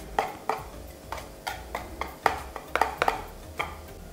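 Whisking batter in a bowl, with a series of light clinking taps against the side at an uneven rhythm, close by, no talking.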